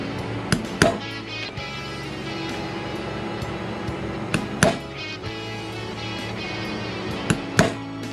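Sharp hammer strikes on a leather pricking iron, pairs of close, loud taps repeated a few times with quiet gaps between.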